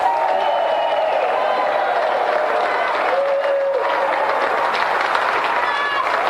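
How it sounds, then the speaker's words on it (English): A television game-show studio audience applauding the two competitors, a steady dense wash of clapping from a crowd that holds level throughout, with some voices mixed in. "let's have another round of applause for our 2 brilliant competitors, Mavis and Matthew John Minor"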